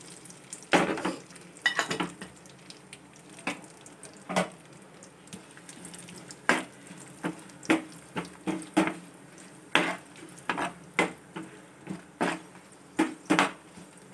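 Dried red chillies and kasuri methi frying in hot oil in a pan, with a steady low sizzle broken by repeated sharp clinks and scrapes of a spoon stirring against the metal, close and moderately loud.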